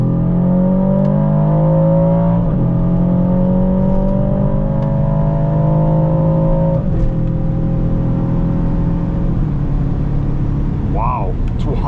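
Full-throttle acceleration in an Aston Martin DBX 707 heard from inside the cabin, a loud continuous engine roar rising in pitch through gears with brief dips at upshifts, sustained at high speed.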